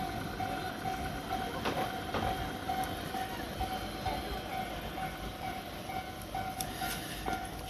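A train rolls by at the Hibarigaya level crossing near Kita-Ikebukuro station on the Tobu Tojo and Saikyo lines, a steady rumble with clattering wheels and a repeating crossing bell ringing throughout.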